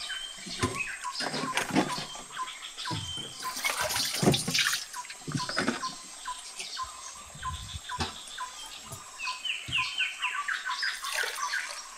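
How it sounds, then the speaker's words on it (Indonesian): Tea poured on a bamboo raft while fishing for shrimp, a soft continuous liquid trickle with small splashes and patter, moderately quiet and close, no talking over it. "Kita tuang teh dulu"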